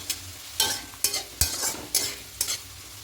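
Spiced potatoes fry in a pan over high heat, with a steady sizzle under five or six sharp scraping stir strokes spaced about half a second apart, close and fairly loud, with no talking.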